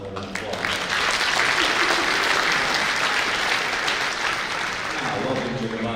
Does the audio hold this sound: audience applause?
yes